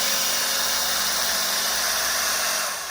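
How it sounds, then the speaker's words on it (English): A drill brush spins steadily against carpet, working P&S Terminator carpet cleaner into the fibers, giving a constant loud motor whine with a broad scrubbing hiss that runs unbroken and fades slightly at the end. "after spraying it, you are going to want to use a drill brush or something to agitate"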